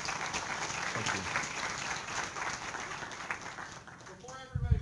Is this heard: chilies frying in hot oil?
no